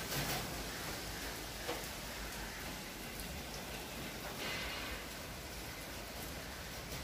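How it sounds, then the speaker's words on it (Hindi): Sudden heavy monsoon rain pours down steadily, a dense continuous hiss of drops drumming on surfaces at close range, with no talk. "देखे बारिश शुरू हो गई है, काफ़ी तेज़ शुरू हुई है एकदम से"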